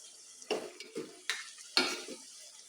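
Meat braised and stir-fried in a pan, about four separate spatula scrapes and stirs, each bringing a short burst of sizzle, close and fairly quiet, with no voices.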